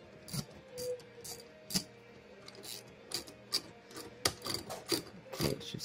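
Ratcheting gear puller being tightened on a stuck wheelchair wheel, giving a series of close, uneven clicks and scraping metal rubs spread across the stretch with brief pauses between strokes.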